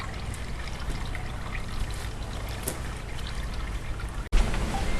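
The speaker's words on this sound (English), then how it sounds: "once it's just dripping very slowly, it's very clear." Apple juice running from a home-made juice press after scratting, a close, steady trickling and dribbling of liquid with a sharp knock near the end, no talk.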